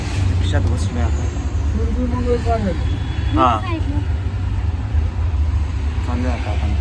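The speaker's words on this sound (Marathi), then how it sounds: "रिक्षात बसलोय आपण." Steady engine drone inside a moving auto rickshaw carries throughout, loud and continuous, with a person speaking briefly over it.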